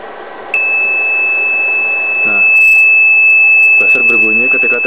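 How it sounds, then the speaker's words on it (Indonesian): A low battery voltage indicator buzzer, set to trip at 10 volts, sounds a continuous steady high-pitched tone that starts abruptly and holds throughout, while someone talks over it. "Buzzer berbunyi ketika tegangan di 10 volt."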